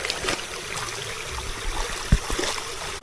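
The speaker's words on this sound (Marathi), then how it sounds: "वरती पण झरा इकडे छोटासा आणि इकडं पण आहे दोन्हीकडनं येत आहे" A small stream of water runs down from higher ground near rain-soaked Konkan paddy fields, making a steady close trickle and gurgle with occasional splashes and a brief thump.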